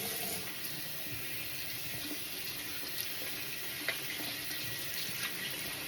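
Tap water runs steadily into a sink as handmade soap lather is rinsed off hands, a constant close hiss with faint splashes and small knocks, no voices.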